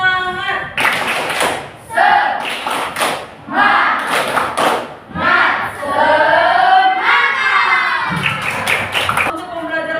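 Classroom of students doing a rhythmic spirit clap (tepuk semangat), loud patterned bursts of clapping mixed with group chanting and shouts, repeated in quick sets.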